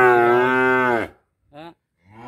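Cattle for sale at a Vietnamese livestock seller's moo loudly and close by: one long drawn-out low bellow, then a short moo and the start of another.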